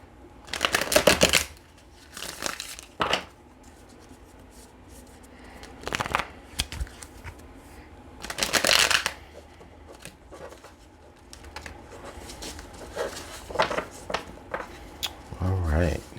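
Tarot cards shuffled in repeated bursts of riffling and flicking, close and fairly soft, with quiet pauses between the rounds and a soft voice speaking in between.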